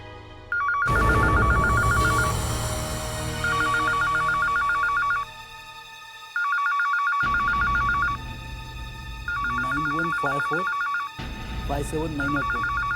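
A telephone rings in bursts of repeated electronic trills, about four rings with short gaps, heard under a tense dramatic music score and voices, in a police crime drama scene.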